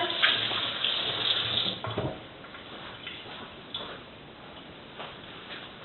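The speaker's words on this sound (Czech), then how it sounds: "Si opláchnu ruce." Tap water runs in a kitchen sink as hands are rinsed during baby food preparation, a steady splashing stream that is loudest early and then eases to a softer trickle.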